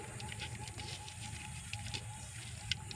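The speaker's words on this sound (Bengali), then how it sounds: "দিচ্ছি ক্যারি পাতা, দিয়ে দিচ্ছি তেজপাতা, কালো জিরে" Curry leaves, bay leaves and nigella seeds hit hot mustard oil, giving a soft, steady crackling sizzle with scattered pops, faint and alone.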